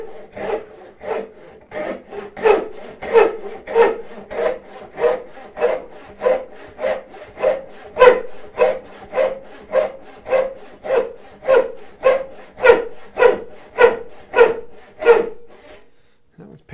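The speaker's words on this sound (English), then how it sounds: "Back up, twist the saw, use the set of the teeth." Hand saw cutting a wooden board for a half lap joint, close and steady, with about two dozen regular back-and-forth rasping strokes, each rising and falling in loudness, no speech over it.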